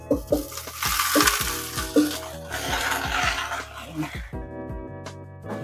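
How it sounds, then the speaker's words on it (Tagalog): Spinach sautéing in a pan with garlic and onion gives a steady hiss of frying, broken by repeated scraping and clinking strokes of a spatula stirring the greens. "Yan, igisa lang natin yan guys. Ilagay na natin tong spinach guys."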